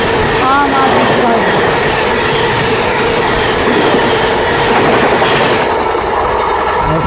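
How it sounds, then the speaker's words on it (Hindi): Passenger train, the Summer Special 04064 from New Delhi to Gaya, rolling steadily along the rails past Meja Road, a continuous loud rumble of wheels and carriage noise with faint squeals early on. "हमारी ट्रेन अब निकल चुकी है मेजा रोड से"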